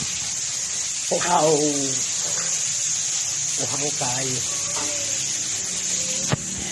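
Tap water runs in a steady, continuous hiss for the whole stretch while people talk over it, ending with a brief sharp knock.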